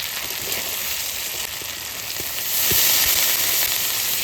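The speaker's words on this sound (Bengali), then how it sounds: "আমার চিকেন কষানো হয়ে গেছে এবার আমি জলটা দিয়ে দেবো" Sautéed chicken sizzles in a hot pan, then water is poured in, the hiss swelling louder and broader about halfway through, with a few soft knocks.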